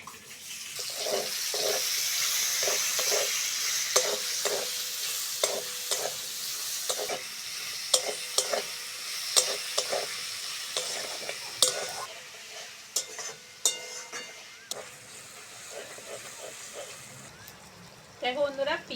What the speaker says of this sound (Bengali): ওই তেলের মধ্যে কুচনো পেঁয়াজ আর টমেটোটা দিয়ে দেবো।